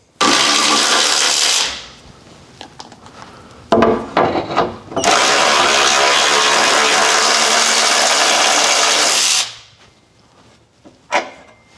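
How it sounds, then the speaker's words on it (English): Bolts being removed with a 19mm socket during a trailer hitch install under a Nissan Xterra, heard as two long, loud, harsh grinding bursts, with short rattling clatters and knocks between them and a quiet pause at the end. "You're going to need a 19mm socket, and you're going to remove this one and this one."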